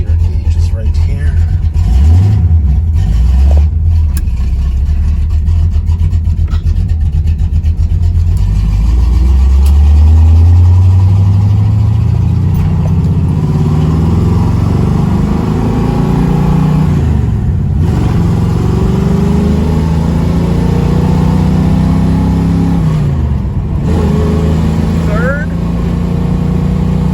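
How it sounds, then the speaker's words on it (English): A 1975 Pontiac Firebird Trans Am with a 455 engine drives along, its loud engine rising and falling in pitch through gear changes as a steady rumble fills the cabin, with someone talking over it. "we're going to take this Trans Am out for a spin"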